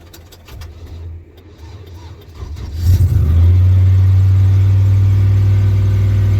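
A car with a turbocharged 5.3 LS engine swap cranks and fires up, then settles into a loud, steady, deep idle that dominates nearby.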